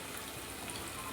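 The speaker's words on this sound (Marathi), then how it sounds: "गरम उकळलेलं पाणी ओतून घ्यायचं आहे" Hot boiled water poured into a pot of chicken curry, giving a short continuous splashing pour at close range with no voices.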